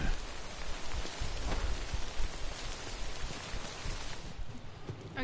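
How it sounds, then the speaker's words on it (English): Dense, hissing rain pours in the Death Stranding video game, loud and constant with scattered drop patter, easing slightly toward the end. "The rain over there."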